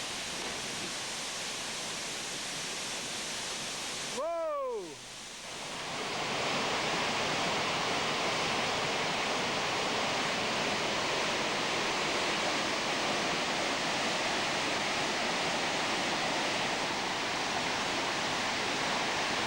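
A waterfall cascades in a canyon in Quebec, Canada, pouring into small pools. It makes a loud, steady, broadband roar of rushing water with no break, and a short electronic chirp cuts in near the start.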